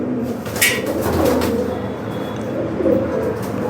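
Domestic pigeons, a paired male and female in a home loft, coo in low repeated murmurs that run steadily near the mic, with some soft rustling alongside.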